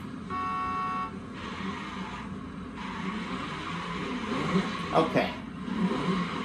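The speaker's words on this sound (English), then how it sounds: "let's do a burnout to wrap it up here" A 1987 Buick Grand National GNX in a video game doing a burnout: a steady engine roar with tyre noise fills the clip, a brief horn-like tone near the start, while someone speaks briefly over it.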